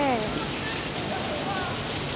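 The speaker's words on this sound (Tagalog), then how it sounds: "Sobrang lakas ng ulan." A hard downpour keeps up a steady, even rush of rain, and a voice speaks briefly at the start over it.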